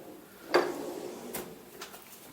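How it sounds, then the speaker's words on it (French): Soft-close MDF kitchen drawers are opened and closed in a rental apartment kitchen. One clear thud and slide is followed by fainter soft sliding knocks, all quiet and close. "toutes les armoires, tous les tiroirs ont des amortisseurs"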